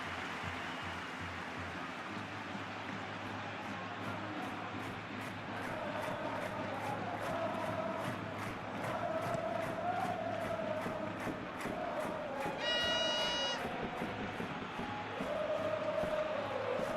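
A football stadium crowd in PES 21 roars steadily throughout, swelling and easing as it cheers, with scattered whistles rising above the constant broad hum.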